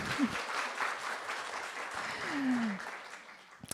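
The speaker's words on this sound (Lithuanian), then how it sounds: "Jūsų plojimai." A short burst of applause from a seated audience at a cultural festival talk in Lithuania, clapping steadily for a few seconds before tapering off.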